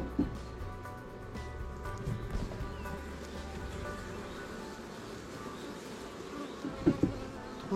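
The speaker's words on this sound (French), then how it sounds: "voilà l'essaim qui a l'air d'occuper les 5 cadres" A honeybee swarm occupying five hive frames: a low, continuous buzzing drone held close throughout, with a few soft knocks and rustles from handling the frames.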